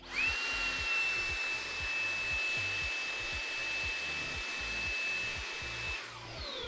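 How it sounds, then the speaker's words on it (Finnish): A vacuum cleaner sucks dust out of an expansion slot inside a desktop computer, a steady close whine with a high sustained tone running throughout, amid a rhythmic low thumping, cutting off near the end. "slotissa pölyä, niin imuroidaan sekin pois."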